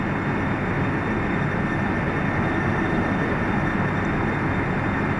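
A steady, loud rumble of a train rolling past in a bus-driving video game, broadband and continuous throughout with no voices.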